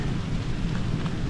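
Rain falls steadily on a wooded gorge trail, a dense, even hiss with a low rumble beneath, continuous and close, with no talk.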